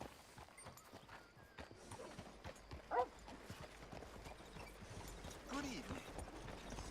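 Horse hooves clip-clop at a walking pace in Red Dead Redemption 2, a steady, moderately quiet rhythm over game ambience, with faint talk also present.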